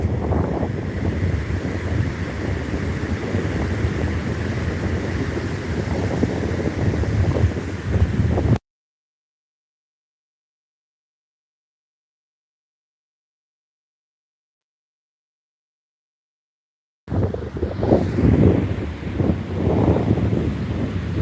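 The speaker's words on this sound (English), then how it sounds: "It's windy." Wind gusting over beach dunes at sunset, a steady loud rumble buffeting the microphone, cutting to dead silence midway before the same roar resumes.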